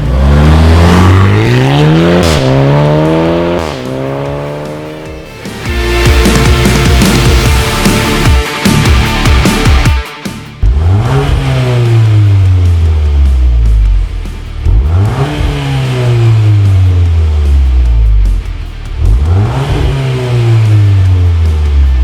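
Volkswagen MK8 Golf R with a Katana Fire intake and exhaust package, loud, close engine accelerating hard through repeated rising sweeps with sharp gear changes, a raspy exhaust note between pulls.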